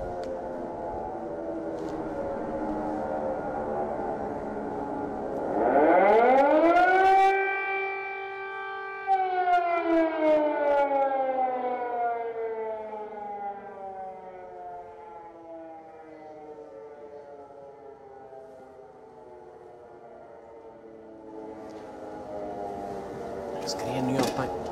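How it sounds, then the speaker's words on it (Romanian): Civil defense air raid sirens wail across Kyiv at night, a rising then long slowly falling tone, loud at first and fading, with someone talking faintly underneath. "S-au auzit sirenele în Kiev, doamnelor și domnilor, în acest moment."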